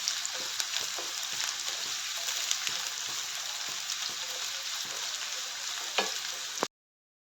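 Bitter gourd frying in oil for Kerala pavakka kichadi, a constant close sizzle broken by scraping and stirring clicks of a spoon in the pan, ending abruptly.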